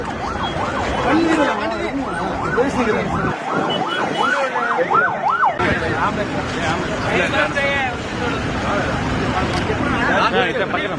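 An ambulance siren wails loudly and close by in a steady rising-and-falling pattern over road traffic, with people talking over it.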